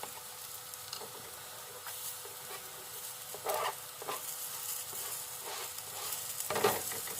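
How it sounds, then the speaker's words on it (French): Cep mushrooms sautéing in a pan with seasoning and a chopped garlic and parsley mix give a steady, fairly quiet sizzle, with a few brief louder bursts as the pan is stirred or tossed. "Et maintenant, on va faire sauter tout ça."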